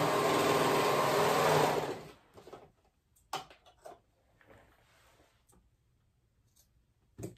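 A sewing machine stitches the short raw edge of a knit neckband, running in a loud, steady whirring burst for about two seconds before stopping, followed by quiet handling clicks and rustles.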